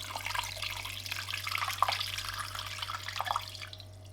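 Water pours into a pressure cooker over corned beef silverside and vegetables, a steady faint running splash with a few drips over a low appliance hum.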